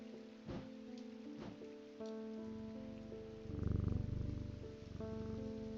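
A cat purrs while being petted in Strange Antiquities, a low rumbling purr swelling up close beneath gentle, sustained musical tones.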